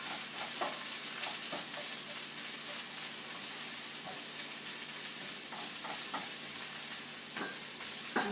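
Cabbage sizzles and crackles steadily in a hot pot, a continuous close frying hiss with occasional pops and stirring clicks.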